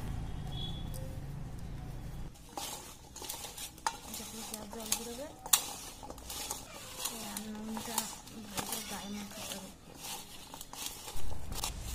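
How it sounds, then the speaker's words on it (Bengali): Cut mango pieces are tossed with salt and turmeric for mango pickle, giving soft wet squelching and stirring with intermittent clinks of a utensil against the bowl, close and fairly quiet, with no speech. "এবার হলুদ আর লবণ দিয়ে আমটাকে ভালো করে মেশাবো।"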